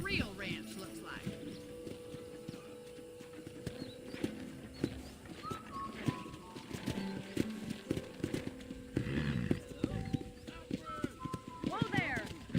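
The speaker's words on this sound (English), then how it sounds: "let's see if you can still ride a horse." Horse hooves galloping in the video game Red Dead Redemption, with a rapid, loud clip-clop rhythm that continues throughout, mixed with occasional whinnies and game dialogue spoken over it.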